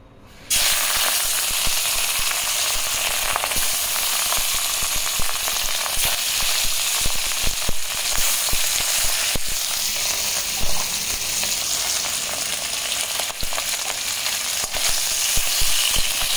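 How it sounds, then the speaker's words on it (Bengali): Fish sizzling in hot oil in a pan, a steady broadband frying hiss that runs close and loud the whole time with faint crackles, and no one talking. "এখানে মেয়েটার মাছগুলো ভাজবো।"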